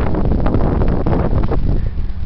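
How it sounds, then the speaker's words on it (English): Strong wind blasts across gentle rolling hills in Los Padres National Forest, buffeting the camera microphone with a loud, continuous roar and gusty rumble. No one speaks. "just beautifying these gentle rolling hills that are blasted by wind, as you can hear on the camera"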